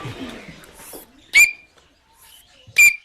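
A student imitates an Australian bellbird at a bird-mimicry contest, giving two loud, sharp, ringing whistled notes about a second and a half apart, with brief murmuring voices before them.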